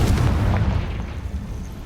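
The Confringo fire spell bursts in Hogwarts Legacy, a loud, low booming rumble that fades over about two seconds.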